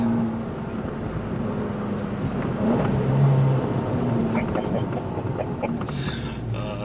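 A 2019 Abarth 595 Esseesse with an Akrapovic exhaust revs and rumbles with a throaty exhaust growl over wind noise around 4,000 RPM, the note rising and holding steady through the clip.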